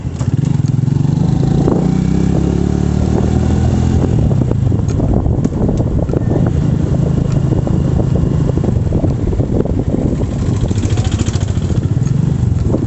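A motorcycle rolls along on an afternoon ride, its engine droning loud and close under steady wind buffeting and road rumble, with small clatters and a light throttle swell near the end, no speech.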